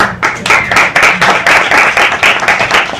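An audience claps together in a steady burst of many hands, close and fairly loud, lasting the whole stretch with no one talking over it.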